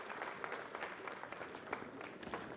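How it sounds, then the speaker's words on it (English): Audience applause for a speaker at a business breakfast meeting, a quiet but dense patter of many hands clapping that sounds distant and holds steady throughout. "A round of applause for him."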